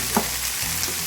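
Chickpeas frying with masala in a hot pan while being stirred, a steady close sizzle with a soft stirring scrape, no voices.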